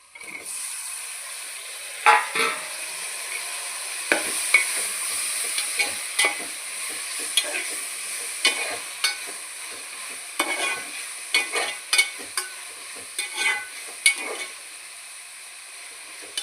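Tomatoes sauté in a pan for a Tamil-style fish curry with a steady sizzle of frying, while a spoon scrapes and stirs in irregular clattering strokes, close up and without talk.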